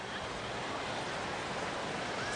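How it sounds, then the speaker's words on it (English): Steady wind off Corpus Christi Bay blowing across a minor league ballpark at around 10-15 mph, a continuous broad rushing hiss with no clear gusts. "The wind has been consistent tonight, coming in off Corpus Christi Bay, blowing across the field from right to left"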